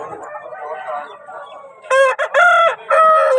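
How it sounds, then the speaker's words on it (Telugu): A rooster at a fighting-rooster market in Vijayawada gives a loud, close crow in several sharp bursts, following quieter murmuring voices and crowd noise. "చాలా మంచి కోళ్ళు వచ్చినాయండి ఇవాళ మార్కెట్కి అయితే."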